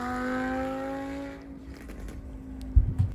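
A car's engine drones loudly as it winds down off the throttle, then a few sharp exhaust pops and crackles burst out near the end.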